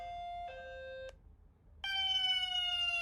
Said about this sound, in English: this might be your country's police siren